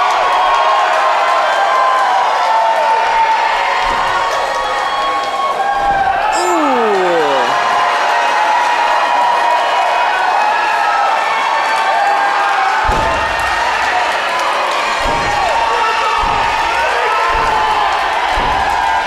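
A wrestling event crowd in Pittsburgh roars and cheers steadily throughout, with thuds from the ring and a commentator talking over the noise.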